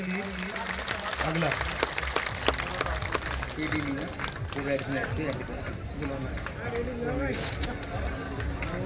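Applause and cheering from an audience at a political nomination meeting in honor of the candidate, a dense steady clatter of clapping mixed with crowd babble and a voice over a loudspeaker.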